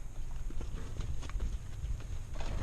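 Several cows walk through a barn area being bedded with straw, their hooves clopping in an uneven scatter of soft thuds over a low, steady background rumble. The steps are moderately close and there is no talking.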